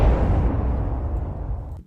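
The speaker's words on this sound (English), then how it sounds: "Let me give you your explosion." A single sustained explosion sound effect, loud and rumbling with heavy low-end boom, decaying gradually over about two seconds before cutting off abruptly, with no voices.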